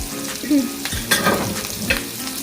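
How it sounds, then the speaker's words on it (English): Vegetables for chicken cacciatore tipped into a hot pan on medium heat, a close crackling sizzle with thumps and scraping as they land and get stirred around. "we're going to go ahead and add the other vegetables in"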